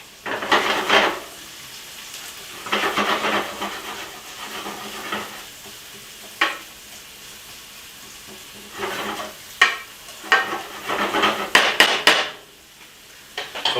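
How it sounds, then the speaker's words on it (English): Salted onions frying over medium heat in a pan, a soft continuous sizzle broken by repeated bursts of spoon stirring and scraping, with occasional sharp knocks against the pan. "now that the onions have cooked for about 5 minutes over medium heat"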